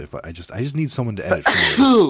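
A quick sneeze bursts out at the end of a stretch of close conversational speech, sharp and loud right over the talking.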